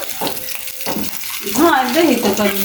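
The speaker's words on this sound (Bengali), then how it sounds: "এই সেটে হলো একটা মাছ ভেজে নিচ্ছে সেটা আবার আমার জন্য" A fish fries in a pan on a home kitchen stove with a close, steady sizzle, and a voice talks over it partway through.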